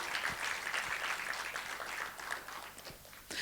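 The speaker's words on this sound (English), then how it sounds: "a huge round of applause for all of you" An audience claps through a motivational talk on the warrior mindset, a continuous, moderately distant patter of many hands without voices.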